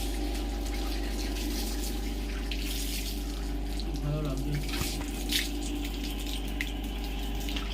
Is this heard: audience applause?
no